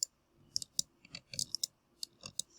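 Quick bursts of sharp, faint clicks from a computer mouse being drag clicked, clustered in rapid irregular flurries with short pauses between them.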